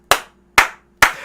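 Three sharp hand claps ring out one at a time at a slow, even pace, each a crisp close slap with a short decay and silence between them.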